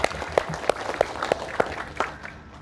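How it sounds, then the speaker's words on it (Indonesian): Sparse, rhythmic clapping from a small group at an outdoor rice-planting event in a village, a handful of sharp claps at a steady beat that fade out within a few seconds. "Tepuk tangan untuk Pak Bupati."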